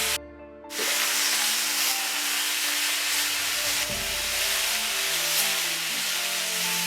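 Beef hits a hot pan without oil and a loud, steady sizzle takes over as it sears, a bright frying hiss that continues without pause.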